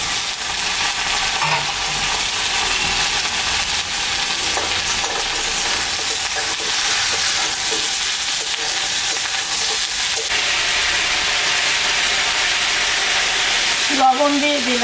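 Cut potatoes and eggplant fry in a pan over already fried onions for an eggplant and fish chorchori, giving a loud, continuous sizzle with occasional stirring throughout.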